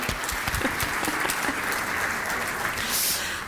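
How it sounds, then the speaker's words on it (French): A crowd at an opening ceremony gives loud, enthusiastic applause, dense clapping holding strong for a few seconds with a slight swell near the end. "On les applaudit haut et fort"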